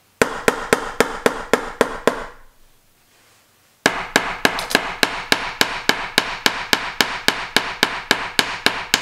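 A fly-tying hair stacker holding material for a Sanjuanera caddis pattern is rapped repeatedly on a hard surface, giving a fast, steady run of sharp, loud knocks that pauses about a second and a half before resuming at the same rhythm.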